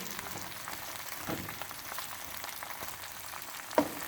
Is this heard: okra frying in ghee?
yes